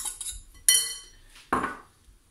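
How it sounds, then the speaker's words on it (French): Canned tuna, about 180 grams, being mixed in a bowl with a utensil for zucchini and tuna fritters: two quiet, sharp clinks of metal against the bowl between soft scrapes. "Alors ici, on va commencer par mélanger. Donc, on mélange rapidement."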